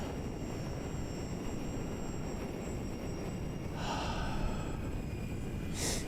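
Avios BushMule V2 RC airplane flying on a winter day, a steady electric motor whine heard over constant wind noise outdoors, with a short breathy sound near the end.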